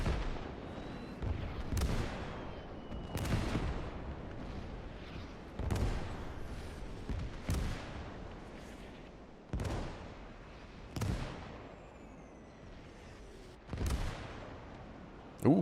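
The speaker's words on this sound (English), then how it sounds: "Let's watch the artillery fire come in on them." Repeated artillery shells slam into positions during a massive 1945 Iwo Jima Marine invasion battle in a war game, roughly nine heavy booming impacts at uneven intervals of one to two seconds, loud and sharp, with rumbling battlefield noise between them.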